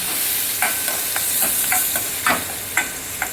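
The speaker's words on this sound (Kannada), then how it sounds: "ಅದು ಕೂಡ ಹಾಕ್ಕೊಂಡು ನಾನು ಇವಾಗ ಸ್ವಲ್ಪ ಲೈಟಾಗಿ ಫ್ರೈ ಮಾಡ್ಕೊತೀನಿ" Ginger and green chillies lightly frying in a pan for spicy Karnataka pongal, a steady close sizzle broken by several sharp stirring scrapes spread through the stretch, with no voices.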